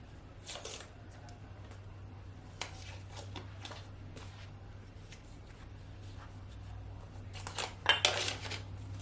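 Ceramic bowl lifted and handled with gloves after sublimation printing, giving scattered light clinks and rustles over a steady low hum, with a brief cluster of sharper clatter near the end.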